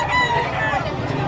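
A rooster crows loudly and close by at the Bocaue pets and livestock market, one strained, drawn-out call with some clucking fowl underneath.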